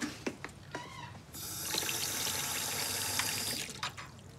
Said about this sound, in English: Well, you go get in the shower, then.